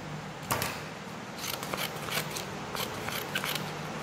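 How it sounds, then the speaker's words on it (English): Scissors snip through brown paper in a craft session, a series of sharp close cuts at an uneven pace with no talking over them. "Cut this paper"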